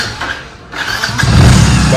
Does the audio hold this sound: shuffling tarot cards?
no